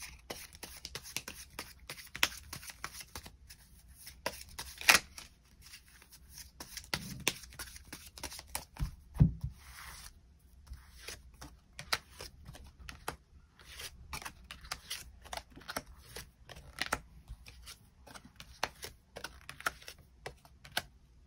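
Tarot cards are shuffled by hand to draw extra cards, heard as close, quiet rapid riffling and flicking in irregular bursts with brief taps and pauses between them over about twenty seconds.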